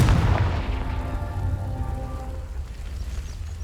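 A Confringo blast spell in the Hogwarts Legacy video game lands as a heavy, close boom at the start, followed by a ringing tonal decay and crackling debris that fade over a few seconds.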